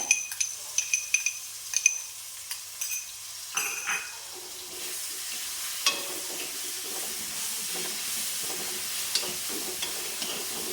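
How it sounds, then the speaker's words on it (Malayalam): Ground spice paste hits softened sautéed onions in a pan, starting with clinks and scrapes of a spoon, then settling into a steady low sizzle as it is stirred, with no talking. "സബോള നന്നായി വാടിയുണ്ട് അതിലേക്ക് ഞാൻ അരച്ച് വെച്ച് പേസ്റ്റ് ഇട്ട് കൊടുക്കുന്നുണ്ട്"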